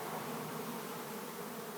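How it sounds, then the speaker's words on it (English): A swarm of honeybees buzzes around a hive box during a live capture, a dense continuous drone that stays steady and fairly close with no talking. "We'll see if we can't get that whole hive to get up into that box."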